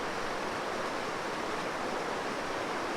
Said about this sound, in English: It's just like rushing so fast, it's like boiling white water.